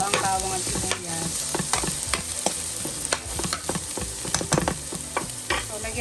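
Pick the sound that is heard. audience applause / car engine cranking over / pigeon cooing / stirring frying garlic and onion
stirring frying garlic and onion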